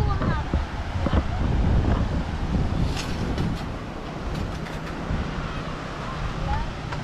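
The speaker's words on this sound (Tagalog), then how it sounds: "Sobrang lakas ng hangin." Strong wind gusts buffet the microphone at Paninap Beach campsite in Real, Quezon, a loud, rushing roar with surf-like swells, and voices talk briefly underneath.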